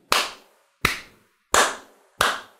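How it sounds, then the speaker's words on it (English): Four sharp, single hand claps spaced roughly evenly, each a crisp close-up smack with a short decay, alone with no talking. "had to give it a soul clap there"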